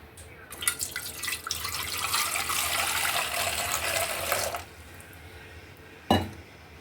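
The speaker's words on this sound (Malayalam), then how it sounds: "ആദ്യം ഒരു പാത്രത്തിലേക്ക് 1/2 ലിറ്റർ പാൽ ഒഴിച്ചു കൊടുക്കുന്നുണ്ട്." Half a litre of milk poured into a metal vessel for a bread pudding: a steady, close splashing stream lasting several seconds, then stopping, followed by a single clunk of the pot.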